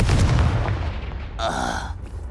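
A Confringo fire spell blast in Hogwarts Legacy lands with a heavy booming explosion that rumbles and decays, followed by a brief crackling burst of magical energy.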